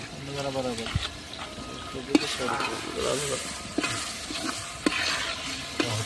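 Onion sizzles and fries in a hot pan, a steady crackle broken by a few sharp clinks of a spoon stirring at irregular intervals, with no one talking.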